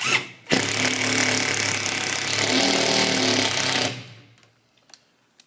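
An impact driver tightens a bolt on a Hydroclaw mounting bracket, a loud continuous rattling hammer lasting several seconds, then stopping abruptly, followed by a few faint clicks of handling.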